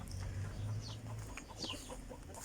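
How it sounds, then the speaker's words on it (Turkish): Faint clucking from chickens at a distance on a rural plot in Aydın, a few soft calls over a low background hum. "hatta tavuklar da var gördüğüm kadarıyla"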